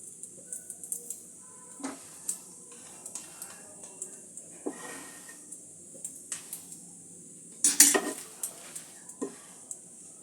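Ghee being stirred into chire pulao (poha pulao) in a pan, heard as sparse metallic clinks and scrapes of a spoon against the pan over a quiet background, with one louder clatter near the end.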